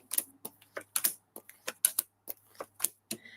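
Tarot cards shuffled by hand, a thick deck giving a series of crisp, close riffling snaps and taps in an uneven rhythm, with quiet gaps between bursts.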